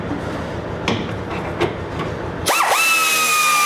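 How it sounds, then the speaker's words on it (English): A power tool tightens 13mm bolts on the L bracket holding a fuel tank on a Chevrolet S-10 Blazer, with knocks and handling at first, then a loud sustained high whine that spins up and holds to the end. "next we're gonna tighten those 13mm bolts up"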